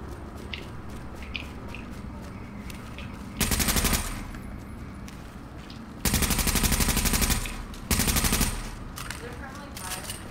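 Automatic gunfire in the Dark Zone of a shooter game, three loud sustained bursts of rapid fire against a low background hum, each lasting about a second or less.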